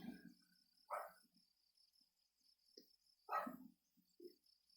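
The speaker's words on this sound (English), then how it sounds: "I have to figure out what that dog is barking at." A dog barks in two short bursts, spaced a couple of seconds apart, fairly faint against a steady high insect or cricket drone in a quiet outdoor setting.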